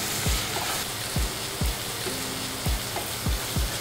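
Sliced onions sizzle steadily in sesame oil, a dense close crackle broken by regular scraping stirs about every half second to second, with no talk.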